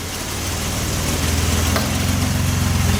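A Triumph TR6 six-cylinder engine from a barn find runs just after a cold start, a close, low, rhythmic idle that builds slightly in loudness and pulses evenly throughout.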